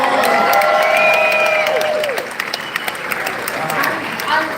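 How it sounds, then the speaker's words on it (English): A casino meet-and-greet audience breaks into loud applause and cheering, a dense wash of clapping with shouts and whistles rising over it, then thinning toward the end while voices call out. "Give yourself a round of applause"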